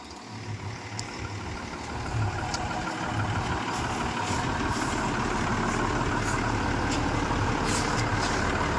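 A truck engine idles with a steady, close rumble throughout, broken by several short bursts of hissing air.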